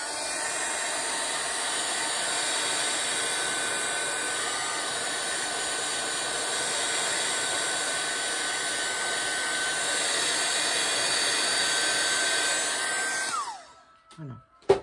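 A hair dryer blows steadily and loud, close, drying a watercolor painting of mimosa, then is switched off near the end, its whine falling away into a few brief knocks.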